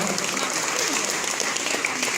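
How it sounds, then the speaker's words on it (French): An audience applauds at a boxing award ceremony honoring three young women, steady clapping from a crowd, moderately loud and continuous throughout. "Vous pouvez applaudir les 3 jeunes femmes qui sont décorées ce soir"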